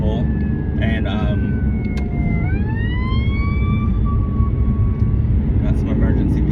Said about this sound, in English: got some emergency vehicles there